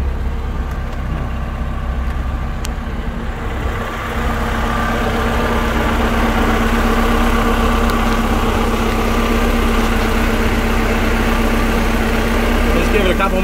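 The engine of a 2012 Larson LX850 boat idles after its first start in almost eight months of storage, a loud, steady low rumble throughout that stays constant under occasional talk.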